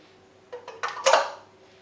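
Sugar whisked into melted butter in a bowl for a red velvet cake: a few quick clinking, scraping strokes close up, rising into a brief flurry and then fading, with no voices.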